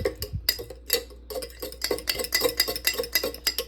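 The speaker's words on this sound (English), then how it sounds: "So mix this up real quick." Sourdough bread ingredients being mixed by hand in a bowl, with quick clinking, scraping taps in an irregular rhythm, close and fairly quiet, with no talking.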